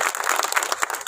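Applause from a village gathering welcoming a guest at a political event, a steady dense wash of clapping with no voices.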